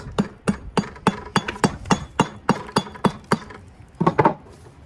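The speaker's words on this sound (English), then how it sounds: "Just take the blunt end of your hammer and look, just hammer it like this." Steady series of sharp metallic taps from the blunt end of a hammer shaping stone for a fireplace, about a dozen evenly spaced strikes close by, ending with a quick cluster of hits.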